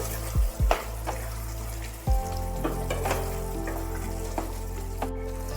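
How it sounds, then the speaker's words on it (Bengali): Sugar being stirred into a chhana and pea curry in a pan over medium gas, giving a steady close sizzle with a few thuds and scrapes from the stirring utensil early on. "চিনিটা দিয়ে একটু ভালোভাবে নাড়াচাড়া করে নিচ্ছি"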